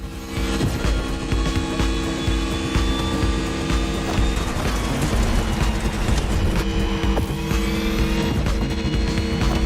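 A Mercedes EQ Silver Arrow electric race car speeds along in The Crew Motorfest, putting out a steady loud whine with tire noise and occasional squeals over a constant rumble of racing sound, with no speech.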